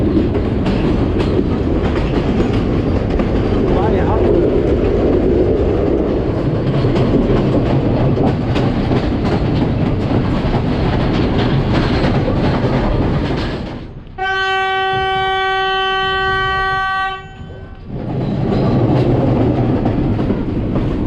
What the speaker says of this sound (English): Most beautiful train ride in the world